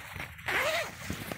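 A short zip from the zipper on a bug net hammock, heard outdoors in a backyard on a cold 35-degree night, one quick rising pull that is close and fairly quiet over a faint background hum.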